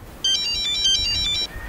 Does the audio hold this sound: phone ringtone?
yes